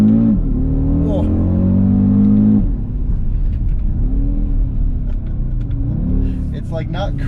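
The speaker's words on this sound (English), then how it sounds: "I'm not being easy on this car" An Audi RS Q3 engine strains as it accelerates hard uphill, a loud steady drone with rising pitch, easing into a lower rumble partway through, with air conditioning running and voices talking over it inside the cabin.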